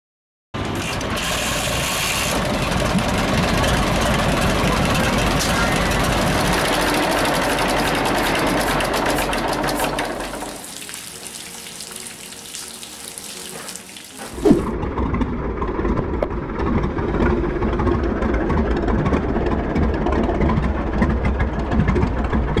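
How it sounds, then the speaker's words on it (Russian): An old Deutz MTZ-320 tractor with a 36-horsepower two-cylinder water-cooled diesel runs with a loud, steady clatter that drops to a quieter, thinner sound for a few seconds, then comes back with a knock and runs rough and loud again. "Deutz MTZ-320 оснащался двухцилиндровым дизельным двигателем с водяным охлаждением"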